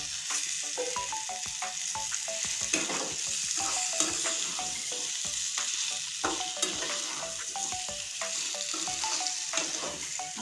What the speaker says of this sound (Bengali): আমি আর কিছুক্ষণ কষতে থাকবো আলুটা।